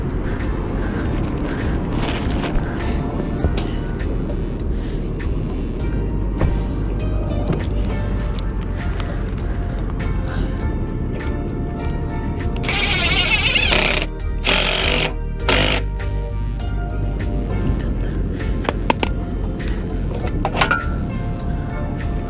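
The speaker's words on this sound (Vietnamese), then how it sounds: "Mình bắn con ốc này lớn nè nha các bạn." Power tool driving a large bolt into the wooden bunk of a boat trailer, loud continuous buzzing and rattling with a sharper high-pitched burst midway, steady throughout the stretch.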